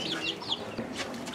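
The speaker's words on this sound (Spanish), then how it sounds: "te vamos a mostrar los hijos del gallito OGB con gallinas, con gallinas Kiri" Chicken clucks come from young birds bred from an OEGB rooster and Kiri hens, several short, fairly close calls in quick succession, with no talk.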